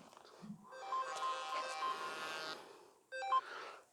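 A mobile phone ringtone going off during a lecture: a faint, melodic electronic tune plays in a quiet room and cuts off briefly before resuming at the end.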